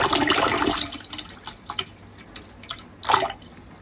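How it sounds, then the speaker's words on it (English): Non-toxic antifreeze poured into a caravan toilet basin, a close splashing trickle at first, then scattered drips and one more brief gush. "I just put a bit of non-toxic antifreeze down."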